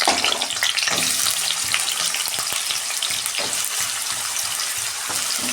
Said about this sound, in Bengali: গরম হয়ে গেছে, আলুটা আমি ভেজে নিচ্ছি।